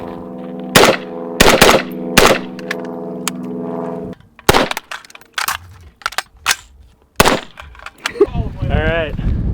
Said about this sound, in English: I wish I could shoot fast, but it's just overgassed, dude.